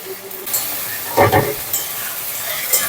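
Ginger garlic paste, green chilli and tomato drop into hot oil in a frying pan for a fish-head curry, giving a short, close burst of sizzling and a couple of stirring clinks.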